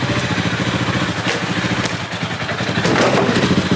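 A motorcycle rides into a TV studio in Koper, its engine running loud and steady throughout with rough, rattling texture and no voices.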